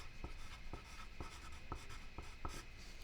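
Pencil writing on paper, a faint scratchy rasp with small regular taps as letters are formed, close and quiet over a low background hum.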